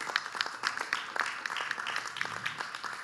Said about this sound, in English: please give a big round of applause to the panelists here